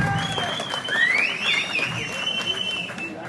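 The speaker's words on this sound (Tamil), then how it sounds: "இந்த கைதட்டுக்கும்" An audience at a Tamil kadamba drama event in Thiruvalanai breaks into a short burst of clapping and crowd noise, with a whistle-like tone riding over it and voices mixed in.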